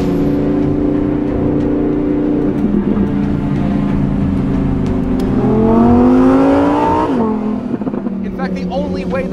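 A 2020 Lamborghini Huracan Evo Spyder engine pulls hard and loud, its note climbing through the gears with a rising harmonic sweep before easing off, all heard close from the cabin.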